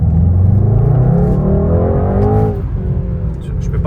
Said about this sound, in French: on va quand même essayer de faire une petite accélération avec la voiture